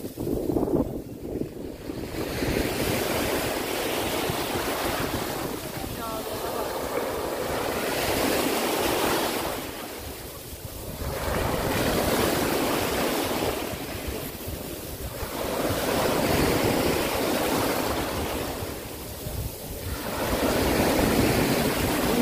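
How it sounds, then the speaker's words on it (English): Ocean surf rolls in at a Montego Bay beach in Jamaica, with broad washing swells that rise and ebb every few seconds under steady gusty wind buffeting the microphone, with no voices. "Waves, man."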